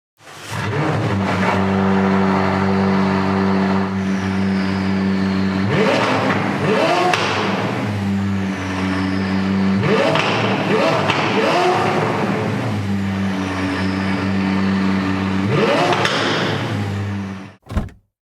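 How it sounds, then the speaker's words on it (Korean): A McLaren 570S Spider engine revs up in several loud surges, its exhaust roaring and then falling back to a steady idle between bursts. "그럼 배기음 한번 들어볼까요?"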